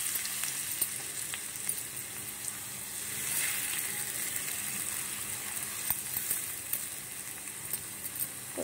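Small gram flour and onion fritters, with a little coriander, fry in hot oil, giving a continuous bubbling sizzle at moderate volume with scattered tiny pops and no speech.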